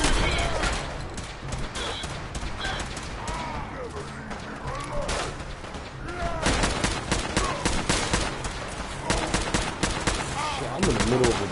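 Heavy gunfire and machine-gun bursts in a Fallout 4 battle among super mutants in Boston, loud and nearly constant across the clip, with someone talking over the shooting.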